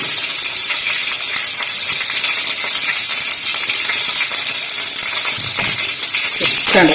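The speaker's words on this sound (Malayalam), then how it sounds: "കടുകൊന്ന് പൊട്ടിക്കോട്ടെ. പൊട്ടിയിരുന്നു." Mustard seeds splutter and pop in hot oil in a home kitchen, a dense, steady crackling sizzle heard close up, with no voices.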